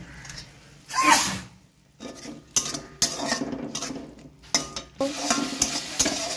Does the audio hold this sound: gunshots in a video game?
no